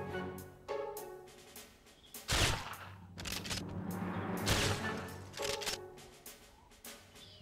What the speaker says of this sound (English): Who and where are they shooting from?